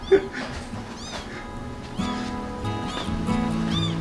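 A cat meows repeatedly, several short cries near the microphone, over muffled rustling and low background sounds.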